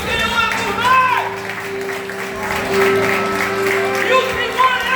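A church congregation at a Lord's Supper service claps along under worship music and singing voices, the applause forming a busy layer beneath the melody for the whole stretch.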